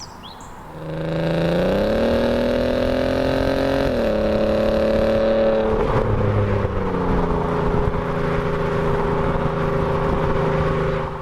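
A 3.2 V6 Audi TT Quattro, a Mk2 8J, with an aftermarket sports exhaust rumbles loudly up close with a deep, steady drone; the engine climbs gently in pitch twice and then settles into a sustained, even note.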